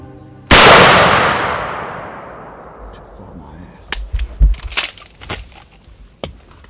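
A single loud shotgun blast goes off while turkey hunting outdoors, its roar decaying over about two seconds, followed by rustling and clattering movement nearby.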